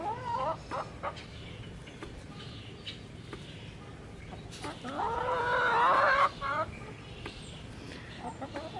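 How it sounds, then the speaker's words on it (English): Backyard chickens cluck and murmur close by as they peck at leftover Yukon Gold potato scraps, soft irregular clucks rising into a louder flurry midway, with a person's voice occasionally heard. "Happy that you're feeding your chickens some snacks"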